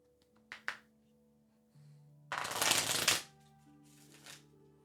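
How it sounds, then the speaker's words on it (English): Tarot cards are shuffled by hand in a quiet room: a couple of short riffles, then one longer dense flurry of card flutter, then a brief final riffle, with a faint hum underneath. "I'm going to start shuffling these crazy cards."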